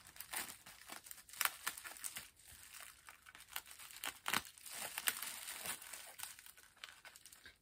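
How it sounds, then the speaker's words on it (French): A heavily taped parcel of books being opened by hand, with bursts of crinkling packaging and tearing tape in irregular rustling flurries, close and fairly quiet with no talking. "c'est tellement bien protégé que je ne trouve jamais comment l'ouvrir sans risquer de tout abîmer"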